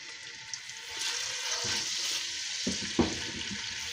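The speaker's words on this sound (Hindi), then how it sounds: "अब हम इसमें डालेंगे 1 टीस्पून अदरक लहसुन का पेस्ट।" Ginger garlic paste hits hot ghee in a pan for a beef karahi and sizzles loudly and continuously, with a few sharp spatters and a brief knock near the end.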